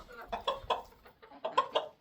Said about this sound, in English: That's the rooster telling all the ladies there's treats.